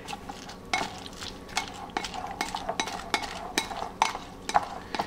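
A spoon stirs and tosses ampalaya salad with tomato in a bowl, making a run of light clinks and scrapes at an uneven rhythm, close and fairly quiet.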